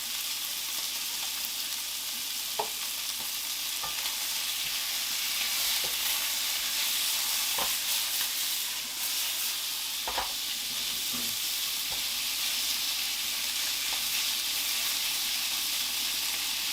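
Steady, loud sizzling of meat frying in a hot pan for chili, with occasional sharp crackles and pops, continuous throughout with no talking.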